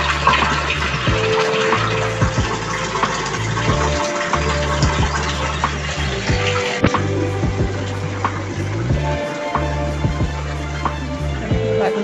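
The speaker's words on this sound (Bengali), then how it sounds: "ট্যাঙ্কি থেকে ওভারফ্লো হয়ে গেলে কুয়োতে জল পড়ে" Overflow water from a tank pouring down into a well, a steady loud splashing rush that continues the whole time, with a low pulsing hum from a motor or pump underneath and faint knocks.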